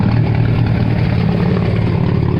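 Ford 300 inline six running straight pipe, idling with a loud, steady, low rumbling burble throughout, close up and alone.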